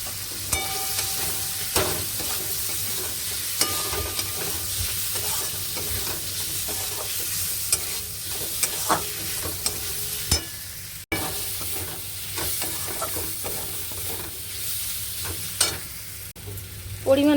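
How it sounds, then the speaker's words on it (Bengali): Fried potatoes are stirred into a sizzling spice masala in oil for a Bengali coconut-fritter curry. Steady, close frying hiss is punctuated by repeated scraping stirs of a spatula against the pan. "এবারে ভাজা আলুগুলো দিয়ে দিচ্ছি।"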